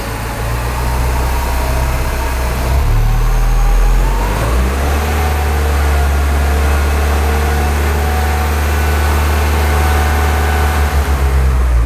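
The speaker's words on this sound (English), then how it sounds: "First start of the Mini. It's running good." A Mini Cooper engine idles steadily after being newly installed, with a loud, continuous low rumble and a brief change in pitch partway through. No one speaks.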